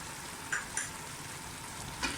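Chopped coriander and green chillies sizzling in a pan for chappan kaddu sabzi, a soft steady fry with a few light scraping stirs of a spoon.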